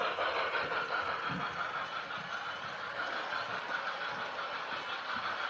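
A Y6B model train locomotive runs with a constant, even rumbling hum that fills the whole stretch, with no clear beat and no voices standing out.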